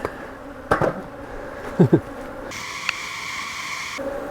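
Agitated honey bees buzz around a beehive during hive work. A steady drone continues throughout, with several sharp, loud passes of bees flying close by and a higher whine in the second half.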